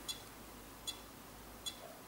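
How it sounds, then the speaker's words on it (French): A failing external hard drive gives three faint, short electronic beeps at a steady interval of just under a second, heard over a low background hiss. "vous entendez un bip."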